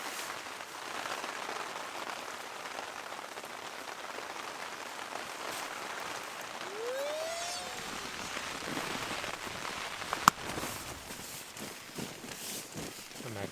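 Rain falls steadily on a Hilleberg Nammatj 2 tent during a mountain camping night. A soft, even patter continues throughout, with one sharp tap near the end and no voices.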